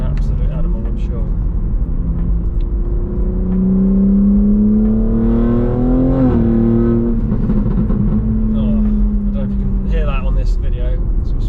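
BMW G81 M3 with a stage 2 tune and custom exhaust accelerating in third gear, a loud rising engine note that climbs, peaks and drops with a gearshift, heard from inside the car with no talk.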